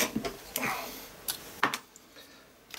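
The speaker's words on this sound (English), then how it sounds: "Just grab my scissors" Scissors cutting linen thread while hand-stitching a circle journal; a few sharp, crisp clicks and snips spaced apart, close and fairly quiet, with faint handling noise between them.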